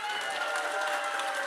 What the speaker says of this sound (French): Il y avait pas mal d'applaudissements.